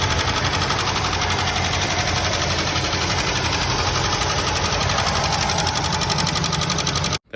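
1969 Buick Skylark barn-find engine, off the road for decades, running with a fast, even rattling clatter that stays loud and constant before cutting off abruptly at the end.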